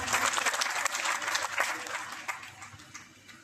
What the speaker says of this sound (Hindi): क्या हाइब्रिड इनकम के लिए ताली नहीं होना चाहिए?